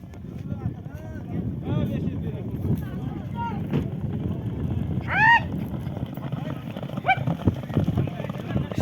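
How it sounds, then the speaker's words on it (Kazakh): Racehorses run in a traditional Kazakh village horse race, their hooves thudding under wind buffeting the microphone, while a commentator talks and a horse whinnies briefly. "аттар жайылып келатыр"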